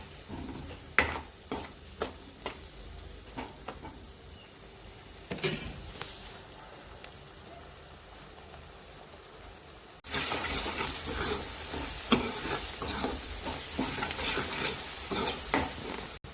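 Drumstick vegetable curry stirred in a pan, first quiet with sparse spoon scrapes and taps, then a sudden loud, dense sizzle with continued stirring strokes, close up and without speech.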